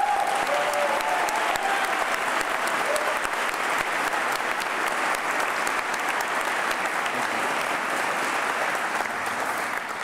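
Sustained audience applause fills a hall at a college baccalaureate ceremony, a dense steady clapping that holds evenly at full volume from start to end with no voices rising above it.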